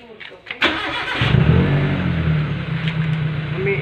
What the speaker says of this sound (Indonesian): kita dengar bunyi enjin dia.